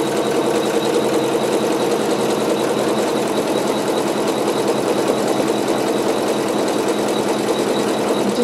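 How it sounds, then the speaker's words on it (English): Sewing machine running steadily as it stitches a zigzag around the edge of a wool-batted quilt block. The whirring is fast, continuous and close, with no pauses or talk. "the machine will sew a zigzag all the way around the outside edge"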